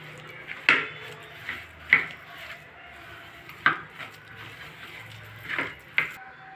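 Spices and oil being mixed in a bowl for a fish fry, with a spoon clinking and scraping against the bowl in several sharp, irregular taps over soft stirring, fairly faint and without talk.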